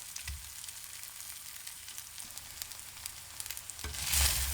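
Velvet chicken pieces fry in a hot pan with a steady close sizzle and occasional stirring scrapes, the crackle swelling louder near the end; no one speaks.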